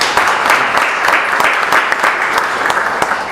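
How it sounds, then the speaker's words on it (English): A crowd at a Red Bull Air Race press conference in Budapest claps steadily and energetically, a dense, continuous wash of applause lasting a few seconds with sharp individual claps cutting through. "Please give him a round of applause."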